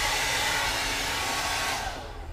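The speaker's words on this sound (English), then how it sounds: "you can finish it off with a hair dryer for a good result too" A hair dryer blows steadily on clothes hanging to dry in a cruise ship cabin, a loud continuous whoosh heard alone that tapers off slightly at the end.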